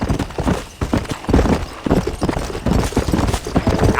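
A horse gallops in the Red Dead Redemption video game, with rapid rhythmic hoofbeats, up close and fairly loud, continuing steadily with no talking.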